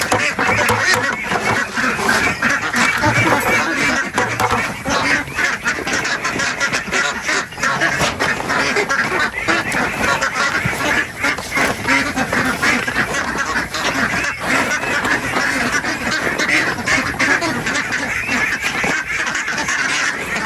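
A crowd of domestic ducks on a flood-prone farm quacks continuously and loudly up close, a dense overlapping chorus with occasional honking calls mixed in.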